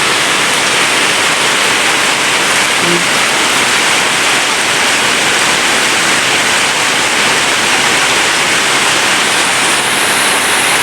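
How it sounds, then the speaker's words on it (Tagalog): Heavy rain pouring in front of a house, heard from a balcony during a sudden hot-season downpour, a loud, dense, unbroken hiss filling the whole stretch. "malakas lalo ang ulan"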